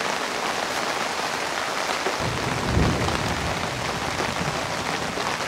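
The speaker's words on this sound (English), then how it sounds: "A little bit of thunder." Heavy rain pours steadily onto a pop-up camper and canopy, with a brief, low rumble of thunder swelling near the middle before fading back under the constant hiss of rain.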